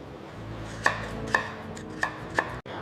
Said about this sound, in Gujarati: છાલ ઉતારેલી કાચી કેરીના ટુકડા કરી લઈશું।